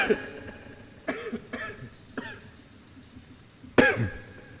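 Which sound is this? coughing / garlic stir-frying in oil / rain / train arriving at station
coughing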